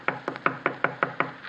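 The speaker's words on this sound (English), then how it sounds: "I knocked politely." Knocking on the door of a shack made of paper, paste and wire, a radio drama sound effect: seven evenly spaced, close, hollow raps in a quick steady rhythm.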